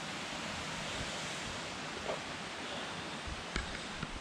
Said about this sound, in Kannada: ಒಂಚೂರು ಡೌನಲ್ಲಿ ನೀರು ಹರಿತಾ ಇದೆ, ಸೌಂಡ್ ಕೇಳಿಸ್ತಾ ಇರ್ಬೋದು ಬಟ್ ಕಾಣಿಸ್ತಾ ಇಲ್ಲ